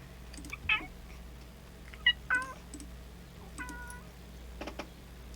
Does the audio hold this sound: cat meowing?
yes